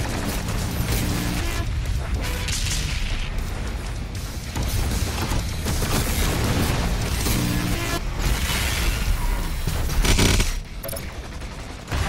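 A massive video-game weapon, the BFG 10,000, fires in a dense, continuous barrage of heavy blasts and booms with mechanical clatter, loud and close throughout, ending with a brief surge.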